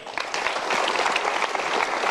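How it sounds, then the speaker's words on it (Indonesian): Studio audience breaks into dense, steady applause on a television talk show, rising quickly after a brief start and holding strong throughout. "kita berikan tepuk tangan."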